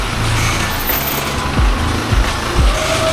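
A large truck rumbling past close by on a street in the Philippines, a steady loud engine drone with a few low thumps and surges as it moves and backs up.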